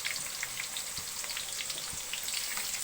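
Garlic fried rice sizzles in a pan for breakfast, a soft, steady crackling hiss scattered with small pops and light stirring taps, with no voices.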